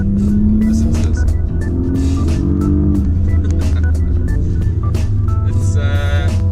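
A 2017 Porsche Panamera 4S engine revs and accelerates up close, a loud deep rumble with rising and falling pitch sweeps, steady throughout with a brief sharper burst near the end.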